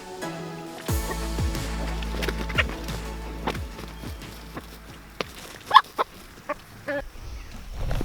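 Chickens being released on a farm cluck and squawk in scattered bursts, with wooden knocks and rustling mixed in at close range.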